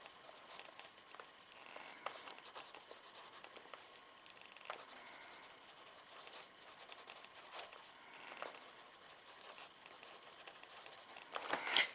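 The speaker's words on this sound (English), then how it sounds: "I'm going to write this." A thin fine-line pen writes on paper, a faint, steady scratching with brief strokes and pauses, quiet and close with no talking.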